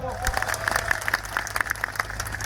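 A rally crowd claps for the police officers present, scattered sharp claps building into loose applause, with voices and talk mixed underneath.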